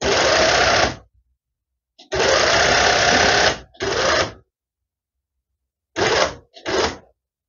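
A sewing machine stitches the yellow section of a fabric toy giraffe in loud, close bursts: a one-second run, a longer run of about two seconds with a brief follow-up, then two quick short bursts separated by silence.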